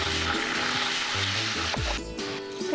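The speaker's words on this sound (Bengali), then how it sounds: "পেঁয়াজটা ভাজা ভাজা হচ্ছে।" Chopped onion frying in a pan on a television cooking show, a steady broadband sizzle running throughout, with a tonal musical or background drone underneath and brief stirring clatter.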